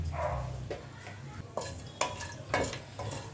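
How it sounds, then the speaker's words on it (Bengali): Cinnamon tempering in about two spoonfuls of hot oil for doi katla, a quiet, soft sizzle broken by several distinct spatula scrapes and taps on the pan, close and faint. "এবার আমি একটু এই দারচিনি ফোড়নে দিলাম।"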